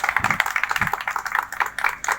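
Audience applause at a school Independence Day event, a quick run of fairly faint, sharp claps from a handful of people, slightly uneven and thin.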